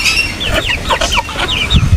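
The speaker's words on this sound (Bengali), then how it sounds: "ভাইজান এই যে এখানে কিছু মুরগ দেখতে পাচ্ছি অনেক সুন্দর সুন্দর" Chickens at an aviary farm cluck loudly and close by in quick, overlapping calls, with a lower grumbling cluck near the end.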